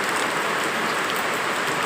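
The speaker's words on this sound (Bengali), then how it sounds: "দেখো তোমরা এই সকালবেলা এখন পাঁচটা বাজে কি হারে বৃষ্টি পড়ছে" Heavy rain pouring at five in the early morning, a dense, loud, unbroken hiss of drops close by.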